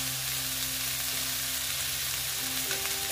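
Young jackfruit frying in hot oil, a steady dense sizzle that holds the whole time at close range, with a faint low hum underneath and no voices.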